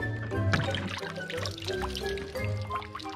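Water beads are scooped and poured into a toy dump truck, giving a soft rattling, trickling pour that rises and falls in short bursts, close and moderately loud.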